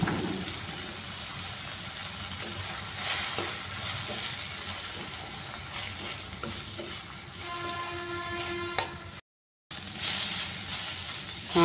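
Sliced onions and tomato pieces fry in a pan with a steady, close sizzle, broken by occasional stirring scrapes and a brief pause near the end; no talking.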